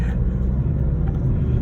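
Manual-transmission car engine rumbling loud and close from inside while downshifting on a road through small villages, a steady low drone with no talk.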